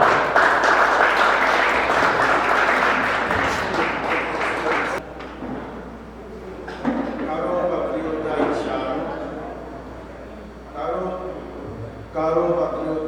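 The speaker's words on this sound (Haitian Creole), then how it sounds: "Je demande de l'applaudir chaudement." A crowd at a gathering applauds warmly as a speaker comes forward, dense steady clapping for about five seconds that then fades into scattered claps, with talking after.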